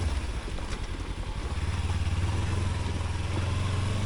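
A Kawasaki Versys X-300 motorcycle crawls off-road in first gear on the Oregon backcountry trail, its engine holding a steady low drone that rises slightly in pitch partway through.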